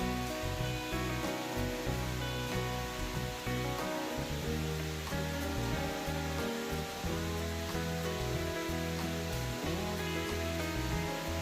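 Water pouring over the Jones Mill Run Dam in Pennsylvania, a dense continuous rushing roar with no breaks, steady and fairly close.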